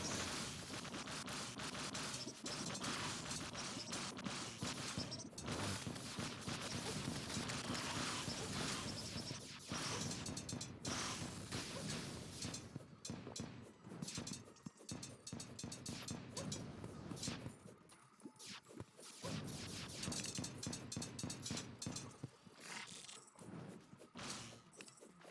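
Electrosphere weapon from Terraria's Calamity mod fires in dense, continuous crackling electric bursts with rapid ratcheting clicks and shattering hits, loud and busy for the whole stretch, with no voices.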